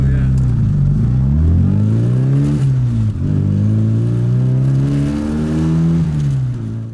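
A 1995 Mini Cooper with a 60 hp engine accelerates hard, its engine note loud and close from inside the car, pitch climbing in sweeps that drop back briefly near one and three seconds as gears change.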